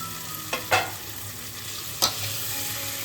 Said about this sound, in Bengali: মশলা সহ হালকা নাড়াচাড়া করে নিচ্ছি।